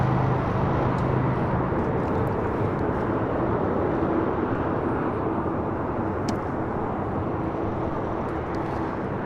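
Aeromexico Boeing 737 MAX 8 airliner arriving at LAX from Mexico City, a steady broadband jet roar held at an even, moderately loud level throughout, with a faint low hum near the start.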